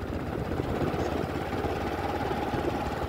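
A motorcycle engine running during a countryside ride among fields, a steady low rumbling drone that holds evenly throughout with no talking.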